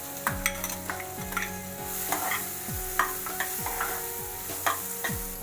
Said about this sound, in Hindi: बटर में डालेंगे कटा हुआ प्याज